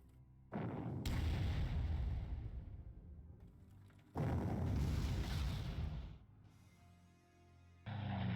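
Artillery fire in the Panzer Corps strategy game: heavy booming blasts with long rumbling decays, two big volleys and the start of a third, loud and alone.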